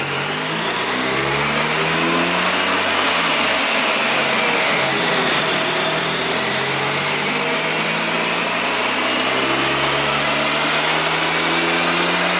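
A freshly rebuilt Mazda RX-7 FD rotary engine with little compression runs steadily at high idle with a loud, buzzy, droning tone, close by and continuous, with a brief dip in pitch partway through, outdoors in wind.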